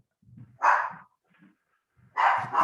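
A pet dog barks indoors at home, two loud bursts with a pause between, the second a quick double bark; a soft low grumble comes just before, and no one speaks.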